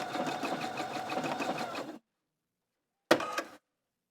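A Husqvarna Viking Opal 670 sewing machine stitching a blind hem, a close, steady rhythmic whirr for about two seconds, then silence, then a short second burst of stitching.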